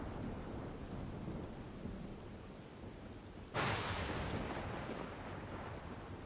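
Steady rain falls in a graveyard in the Final Fantasy XIV game, a constant wide hiss that swells into a sudden louder crack and rush of thunder partway through and then keeps pouring.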